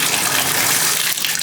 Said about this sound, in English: If that's just straight up hot water, then you're good.